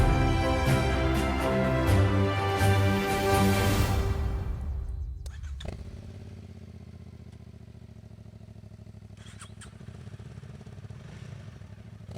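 A Honda CRF 300 Rally motorcycle engine runs loudly and steadily nearby for about four seconds, then drops away to a quieter, lower hum with faint clatter.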